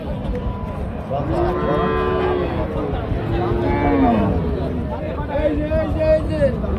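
A Friesian dairy cow stands with its heifer calf at the Chougachha cattle market in Jessore, giving a few drawn-out, wavering moos close by amid steady crowd babble and market voices.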